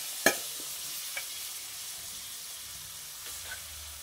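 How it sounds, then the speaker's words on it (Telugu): Chicken leg pieces fry in a pan with a steady, fairly quiet sizzle, broken by a sharp utensil clink near the start and a few faint stirring scrapes. "ఫ్రై చేసుకుందాం"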